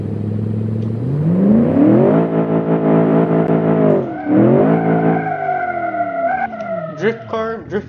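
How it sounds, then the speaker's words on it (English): The Karem 400S car in BeamNG revs and shifts, its exhaust note rising in repeated upward sweeps through the gears, loud and close, with a voice talking over it. "this has just the most pollutive exhaust."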